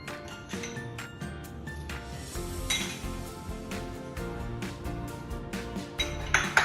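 Spoon clinking against a glass or bowl while sugar goes into an Oreo shake mix with cocoa powder: a busy run of close metallic taps and chinks, steady and moderately loud throughout.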